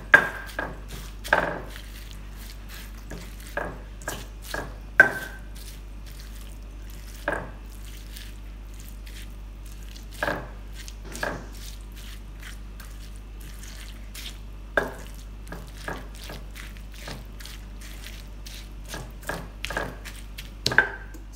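Fried anchovies are stirred into green chili sambal, giving sparse, irregular scrapes and knocks of a utensil against the pan over a quiet background, with no sizzle.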